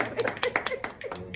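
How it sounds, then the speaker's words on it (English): Scattered clapping at a birthday party speech, a few close, uneven hand claps in a short burst with faint voices around them. "So, round of applause for everybody."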